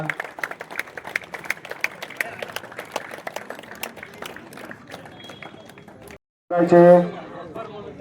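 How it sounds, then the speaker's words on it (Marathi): A crowd claps steadily at a village cricket premier league event during a t-shirt unveiling, many hands rattling at moderate loudness, then a voice cuts in near the end. "सर्वांनी जोरदार टाळ्या वाजवायच्या आहेत."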